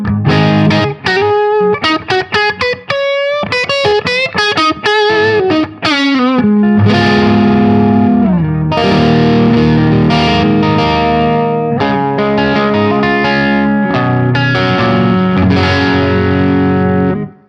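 Electric guitar played through a Mesa Boogie Mark V 35w amplifier with both boosts off and the volume pedal rolled back, giving a fairly clean tone; loud chords and riffs strummed continuously, alone with no talk.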